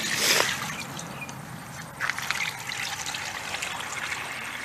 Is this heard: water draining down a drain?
yes